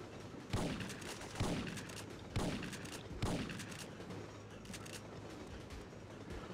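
Shotgun blasts in the PS1 game Syphon Filter 2 during the Colorado train ride level, four loud booming shots spaced about a second apart over a steady rumbling backdrop of game noise.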